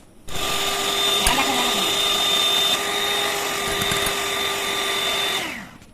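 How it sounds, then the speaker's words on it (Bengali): An electric mixer beats three eggs in a mixing bowl, a steady motor whine running nearly six seconds with a faint rattle of beaters, then cutting off at the end. "ডিম বিট করে নেব"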